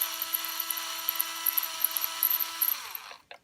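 A power screwdriver whirs steadily while driving down the 5-way switch on a Squier Vintage Modified 70s Stratocaster, a close, continuous motor whine for about three seconds before it stops.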